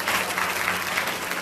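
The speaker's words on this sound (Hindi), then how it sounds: "ताली मार दो सुनील जी के जोर से" Short, loud burst of audience clapping for Sunil at a short film launch event, dense and continuous throughout with no pauses.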